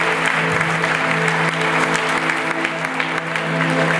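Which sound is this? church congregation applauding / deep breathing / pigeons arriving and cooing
church congregation applauding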